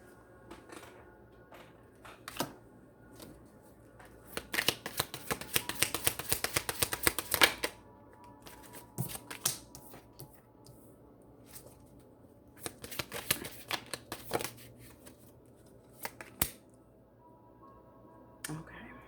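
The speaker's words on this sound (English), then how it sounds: "Let me get some more cards on the table before I start reading." Tarot cards being shuffled and laid on a table, bursts of quick riffling and rattling in clusters with sharper slaps and clicks between them, close and fairly quiet, with a voice talking at times.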